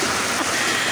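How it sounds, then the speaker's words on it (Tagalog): Heavy rain pouring down in Ha Lin Pei village, a loud, dense, steady hiss that holds unbroken throughout, with no voices. "So, ayan na po talaga ang ulan. Ang lakas."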